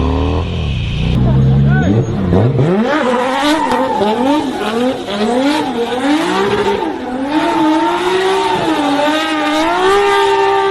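A car drifts in tight circles around a van during a police chase, engine revving up and down in repeated swells with tire squeal, loud and continuous, while a voice talks over it.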